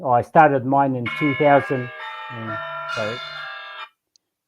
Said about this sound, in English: that's my alarm to remind me that I'm on the podcast this morning